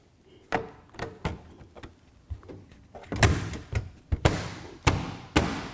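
A pleated furnace filter door being slid back into place and snapped shut on an AprilAire 401 air cleaner cabinet, giving a string of close, sharp plastic clicks and thumps spaced through the clip with no talking.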